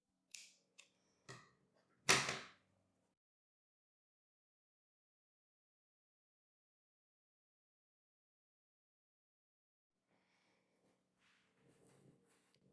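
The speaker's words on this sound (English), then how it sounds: "I adjust it here with the scissors to make everything just right." Scissors make a few crisp, close snips through fabric in quick succession, then a long silence before faint rustling handling near the end.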